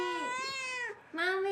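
A black cat adopted from an animal shelter gives two drawn-out, wavering meows separated by a short pause, close and fairly soft.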